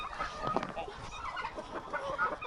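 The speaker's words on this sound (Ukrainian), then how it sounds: "Цесарки верещать, качки водичку п'ють." Guinea fowl screech and chatter in a snowy winter poultry yard alongside chickens and ducks, harsh repeated calls at moderate distance over faint yard noise.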